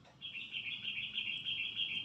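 A pet bird chirps in a steady, continuous high twittering trill, fairly close and clear, with no voices over it.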